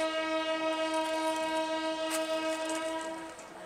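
A Shramjeevi Express train pulls into platform 3 at Rajendra Nagar station in Patna, its sustained horn blaring loud and steady with harmonic tones over rumbling rail noise, fading slightly near the end.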